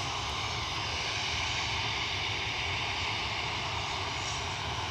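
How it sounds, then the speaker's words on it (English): A fixed-wing airliner passes by at Newcastle Airport, its engines producing a steady, loud broadband roar that holds continuously with no speech over it. "That is the Larnaca flight in front of you"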